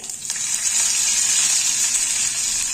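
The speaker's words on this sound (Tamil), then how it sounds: "கடுகு பொரியுது" Mustard seeds crackle and sizzle in hot oil at the start of a Pallipalayam chicken dish. A close, loud, continuous frying hiss fills the whole clip with no talking.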